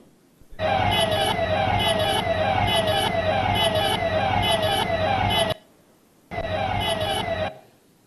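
Police vehicle siren wailing loud and close, a long continuous cycling wail lasting about five seconds, then a short pause and a second burst, with no talk over it.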